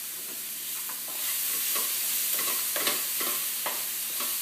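Food frying in olive oil in a pan gives a steady, close hiss with irregular scraping strokes of a utensil stirring through it; no voices.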